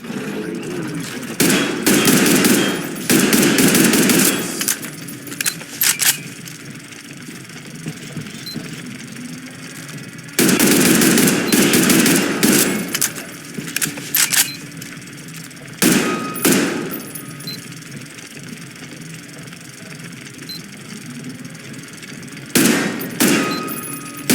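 Bursts of rapid automatic gunfire crack out in several separate volleys with quiet gaps between, loud and close, as targets are shot at in the video game Metro Exodus.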